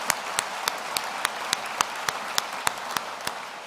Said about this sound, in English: I think that's worth applauding.